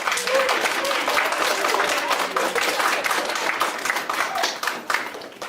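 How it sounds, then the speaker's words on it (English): An audience gives a loud, sustained round of applause for a guest, dense rapid clapping from many hands that holds steady before tapering slightly at the end, with a voice faintly over it. "And another big round of applause for Melinda Day"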